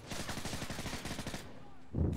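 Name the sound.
gunfire in video game Modern Warfare 3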